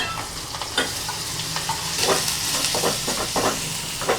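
Cabbage and large chili pieces, with asafoetida already in, stir-fry in a hot pan. A steady, close sizzle carries on throughout, broken by repeated scraping stirs.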